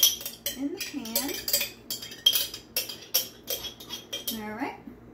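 A small spoon clinks against a pan during home cooking, giving repeated sharp metallic taps in an irregular rhythm, close and fairly loud, with a voice speaking in the gaps.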